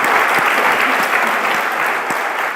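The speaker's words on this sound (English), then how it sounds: "I'd like to give a round of applause to the Rust Latam organizers for making this happen" A conference audience applauds organizers with dense, sustained clapping from many hands that stays loud and even throughout.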